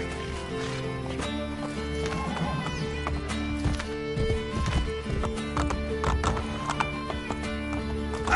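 Horse hooves clip-clop in a fast, steady gallop while a horse neighs over the top, set against continuous background music, in Assassin's Creed Brotherhood.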